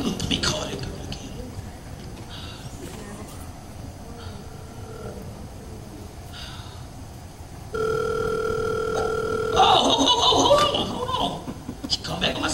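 A telephone call tone sounds for about two seconds as a steady, bright tone midway through. Room noise, scattered clicks and faint voices surround it.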